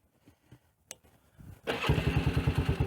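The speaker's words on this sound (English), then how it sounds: "Start your engines." A motorcycle engine cranks briefly, then catches and roars into a loud, steady idle with a rhythmic throbbing pulse, close by.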